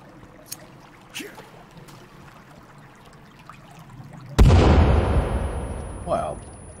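A grenade detonates in the survival game Sons of the Forest: a sudden loud, close blast with a long, rumbling decay, after several seconds of quiet ambient game sounds with faint scattered clicks.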